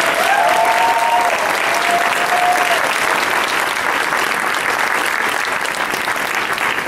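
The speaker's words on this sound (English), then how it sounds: "a big round of applause for the coordinator of Shakeology" A large audience at a Super Saturday event in Dallas breaks into sustained, loud applause that fills the room evenly from start to finish, with a few faint whistles rising over the clapping early on.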